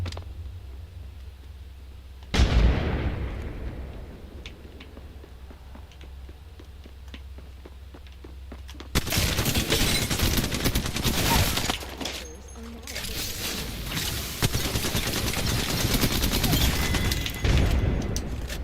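A frag grenade blast in a video game, one sharp boom followed by quieter rumbling, then a burst of dense, continuous gunfire and crackling explosions filling the second half.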